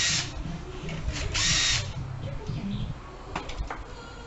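Power tool zapping nuts off an engine, with several short loud whirring bursts separated by pauses and small clanks of handling nearby.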